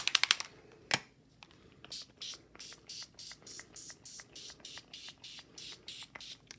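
Dina Wakley gloss acrylic spray bottle pumped repeatedly in a steady rhythm of short, close hissing bursts, roughly a dozen in a row, after a few quiet taps at the start.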